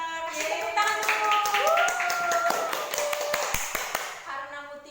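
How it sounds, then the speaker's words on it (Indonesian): A small group of classmates claps for a student who answered correctly in a classroom lesson, with irregular hand claps sounding near while children's voices cheer and sing out over them. "Tepuk tangan dulu."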